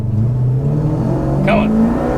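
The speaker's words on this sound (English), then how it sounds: "we're going to try a 0 to 100 in my HQ" A Holden HQ engine pulling hard during a 0 to 100 run, a loud, rising drone heard from inside the car, with a short squeak or voice-like chirp midway.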